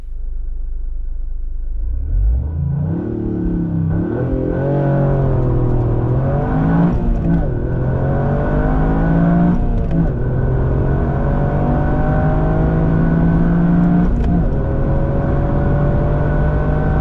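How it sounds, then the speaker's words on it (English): Toyota GR Yaris launching hard from a standstill at high revs, engine note rising through a loud sustained rev climb with gear changes, close and continuous with no talk. "these types of high rev launches aren't the best for the drive line"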